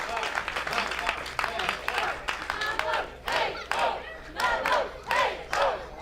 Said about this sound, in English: And the crowd now starting to get behind Chuck Mambo.